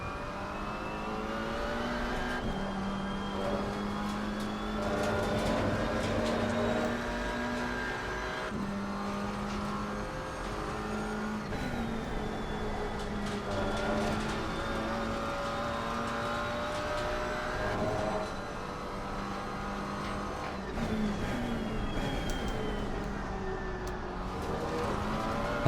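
A GT race car engine in Assetto Corsa Competizione at Silverstone drones continuously up close, rising and falling through repeated gear shifts and throttle lifts over a long stretch, with no voices.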